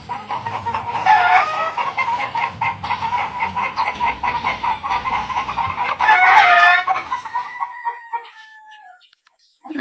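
Pet chickens cluck steadily in a rapid, overlapping chatter, with a rooster's crow rising near the end before the flock quiets and falls almost silent.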